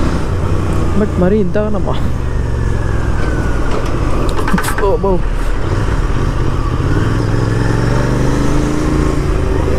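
Road traffic at a diversion on a busy road with autos and bikes, engines rumbling and motorcycles revving past close by, a horn-like burst in the middle, with someone talking over the steady traffic noise.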